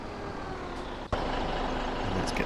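A truck reversing in Farming Simulator 17: a low steady engine rumble with faint intermittent beeps, broken midway by a sudden sharp hiss, then the engine drone carries on.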